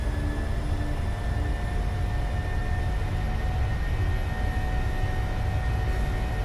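Boeing 737 jet engines spool at takeoff power in a PMDG flight simulator, a steady broad roar with a faint whine on top that holds level throughout, with no voices.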